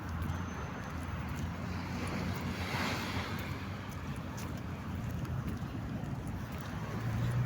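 Waves surging and breaking at a seaside after dark, a steady broadband roar of surf mixed with wind buffeting the microphone, continuous and fairly loud throughout with no talking.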